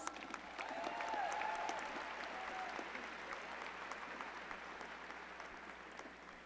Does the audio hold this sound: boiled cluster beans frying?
no